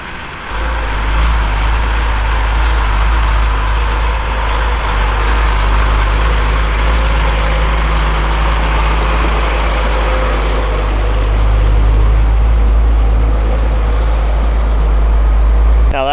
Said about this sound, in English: Sounds like we got another truck coming out.